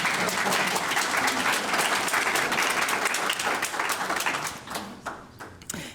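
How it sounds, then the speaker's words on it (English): Audience applause at a science talk on Parkinson's and stem cells: sustained, dense clapping from a crowd that fades out toward the end, with no speech over it. "hold your applause"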